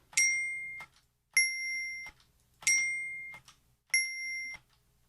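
Four struck bell tones alternate between a recorded bell and a synthesized sum of pure tones, each ringing briefly and decaying before the next, clear and alone.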